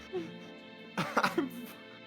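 A close, dry cough comes as a quick burst of two or three throaty hacks in the middle of quiet talk, with a voice speaking before and after it.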